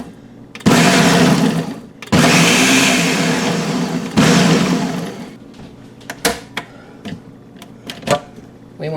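A blender pulses garlic with salt for a Lebanese garlic sauce in three loud, long whirring bursts, followed by a few short sharp knocks and clatters.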